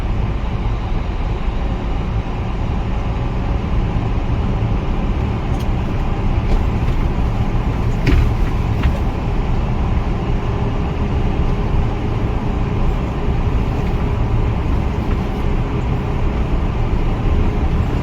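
Steady low engine drone of a Mega Truck car carrier held around 800 rpm while climbing uphill in sixth gear, a constant loud rumble with faint road noise and no talking.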